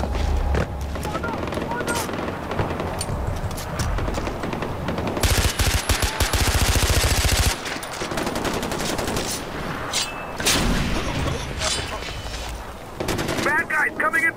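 Heavy automatic gunfire and explosions fill a Far Cry 4 airfield battle, with dense sustained bursts, a loud rattling stretch midway and scattered shots, while voices shout over the constant combat noise.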